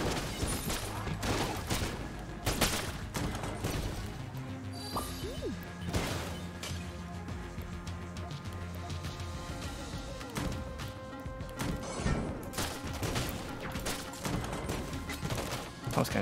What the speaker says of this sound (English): I'm so glad I can't hurt myself with my own rockets.